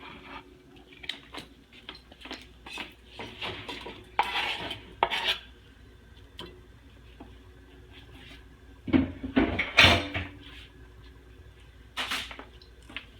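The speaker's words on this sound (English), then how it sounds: "And those are ready to be added to the pot." Chopped vegetables tipped into a pot for vegan chili and stirred, with scraping utensil clatter and clinks against the pot, two louder bursts of activity amid quieter stirring.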